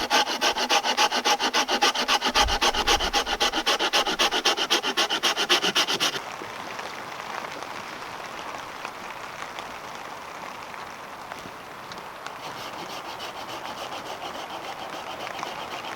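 A Laplander folding saw cuts small branches in quick rhythmic rasping strokes, close and fairly loud for about six seconds, then stops, leaving quiet outdoor background.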